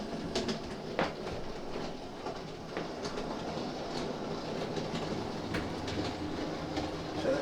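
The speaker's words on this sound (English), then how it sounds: "let's get the Flying Scotsman up and running" Hornby Flying Scotsman OO gauge model locomotive running on a modular layout, a continuous soft rolling rumble with faint irregular rail clicks, fairly quiet and steady throughout with no voices.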